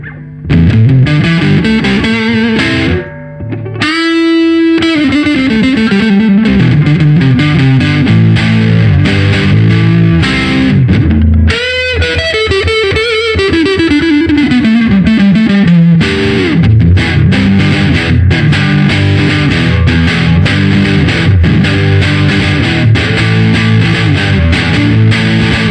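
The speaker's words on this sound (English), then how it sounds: "And this is what it sounds like with the Silicon Fuzz." A Fender Telecaster electric guitar runs through a Silicon Fuzz pedal, producing thick, saturated distorted chords and sliding notes that play loud and almost continuously, with only a brief dip early on.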